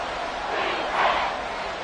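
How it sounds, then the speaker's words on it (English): A stadium football crowd cheers loudly on third and long, a dense roar of many voices swelling to a peak midway through a brief burst. "This crowd turning up the decibel level."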